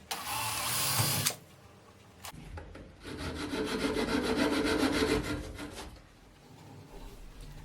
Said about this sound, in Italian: tagliare con la sega a mano